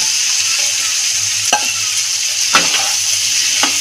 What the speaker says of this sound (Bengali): এবার আগে থেকে আমি বিনস, কুমড়ো, আলু যে ভেজে রেখেছিলাম, এবার এগুলোকে সব দিয়ে দেবো।